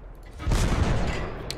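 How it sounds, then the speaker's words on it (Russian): A tank cannon fires in a tank video game, a single heavy boom near the middle that rolls into a long, loud rumbling decay, with a brief sharp click at the end. "Пушка как-то вправо стреляет"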